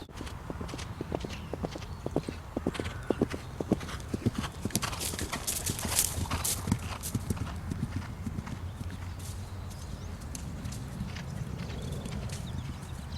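Horse cantering at cross-country pace during eventing training, its hooves thudding in a quick, steady three-beat rhythm on turf, fairly close and continuous throughout.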